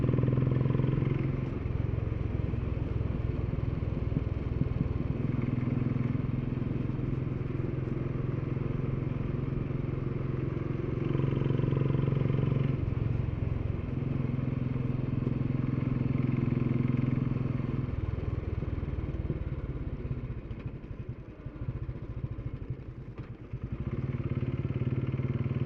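A motorcycle is ridden through hills, its engine droning steadily with the pitch rising and falling as it revs and shifts gears, close and continuous with rattling and wind noise.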